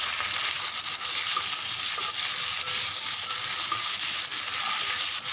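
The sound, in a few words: frying pointed gourd (kakrol) and potatoes in oil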